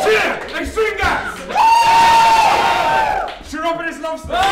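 A live improv comedy audience cheers and whoops loudly for a show suggestion, a roaring burst of about two seconds with a single shrill whoop riding over it, framed by a presenter's raised voice calling out before and after.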